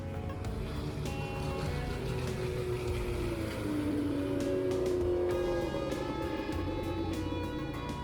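Outboard motors on a catamaran hum steadily and fairly close, a continuous droning engine tone with slight pitch wavering, running alone on the water without talk.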